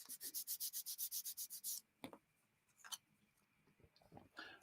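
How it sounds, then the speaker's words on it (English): A sanding stick scrubs the inner surface of a plastic model part in a quick run of about a dozen even back-and-forth strokes, then a few scattered scrapes and small knocks, close and clear. "We'll just give the inner surface a quick clean up with the sanding stick."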